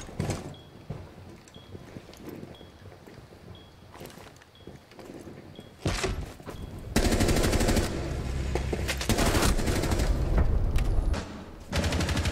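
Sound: gunfire in the video game Rainbow Six Siege

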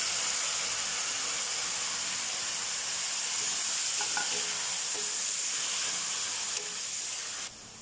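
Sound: stir-frying vegetables with cabbage added to the pan

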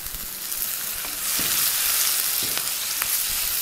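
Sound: tomato pieces added to fried onions, frying in pan

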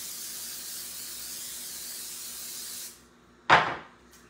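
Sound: spraying the baking pan

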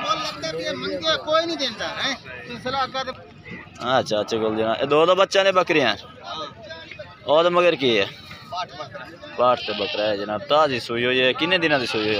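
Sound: young goats bleating at goat farm

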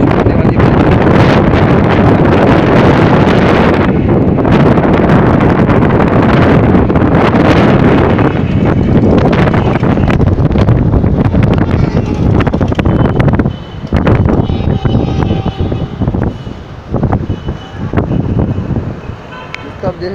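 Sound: strong wind and heavy rain storm

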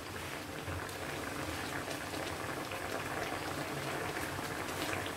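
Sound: fried chicken pieces simmering in cream sauce

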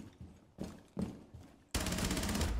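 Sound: hipfire gunshots in video game Rainbow Six Siege

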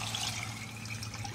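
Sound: pouring 4 cups of water into braised pork belly pot

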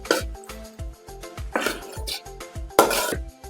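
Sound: stirring coconut, cumin, chili paste into aviyal in a pan

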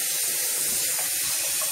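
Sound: water running from a sink tap

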